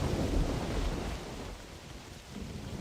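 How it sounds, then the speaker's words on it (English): Heavy rainstorm with rolling thunder in the hunting game theHunter Classic, a dense, loud low rumble and steady rain wash filling the whole stretch without pause. "God, the rain, the thunder and lightning,"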